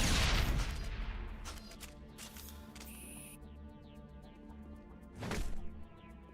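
Gunfire bursts from weapons in an alien dating sim video game, a dense loud volley at the start, then scattered sharp shots and a second heavy blast near the end over game music.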